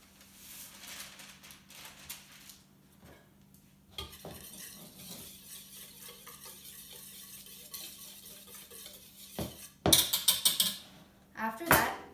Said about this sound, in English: You're going to put all of your dry ingredients into your medium mixing bowl and mix it together with your whisk.